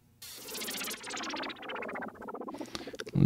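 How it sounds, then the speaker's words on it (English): Pulsing LFO-modulated synth effect in an electronic track produced in Logic Pro: a rhythmic wobbling sweep with stuttering pulses that tighten toward the end, loud and alone with no voices. "whether it's LFO sounds like this one,"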